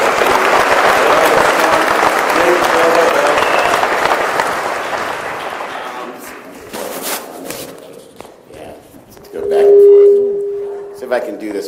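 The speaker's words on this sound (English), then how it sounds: "So let's give them a round of applause." Loud applause from a town hall audience gathered in a church, steady for about six seconds before fading into scattered claps, followed by a brief tone and a voice speaking.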